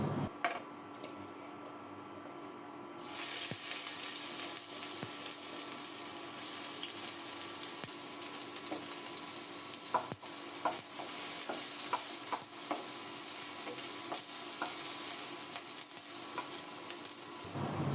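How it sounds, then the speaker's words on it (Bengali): Chopped onions sizzle in hot oil with dried chillies: after a quieter opening, a loud, steady frying hiss begins, broken by scattered clicks as a utensil stirs in the pan. "পেঁয়াজগুলোকেও লাল লাল করে ভেজে নেব"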